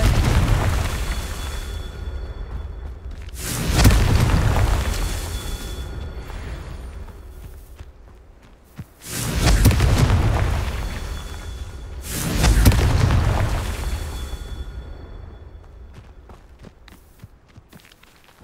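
Spell explosions from the Confringo curse in the video game Hogwarts Legacy, several loud booming blasts with bursts of crackling debris, repeating at intervals of a few seconds.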